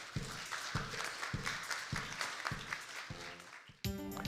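Lecture-hall audience clapping to welcome a Seoul National University physics and astronomy professor at a public science talk, a broad, even patter of hands underneath a rhythmic musical beat, ending with a bright chime-like jingle.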